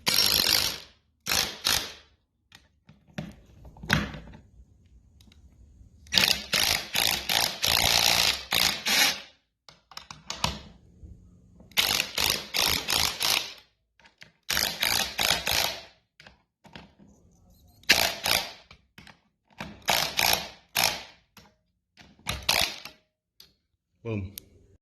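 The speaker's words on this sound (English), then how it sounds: "So I got my trusty impact wrench." A cordless impact wrench drives fasteners into a garage door opener header bracket during a Ryobi opener install, firing in repeated short rattling bursts separated by pauses, close and fairly clear, with brief talk in between.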